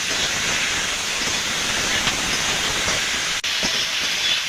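Black mustard paste, cumin paste and green chili paste frying in a pan for a drumstick and fish curry, giving a loud, steady hiss of sizzling oil with a momentary dip near the end.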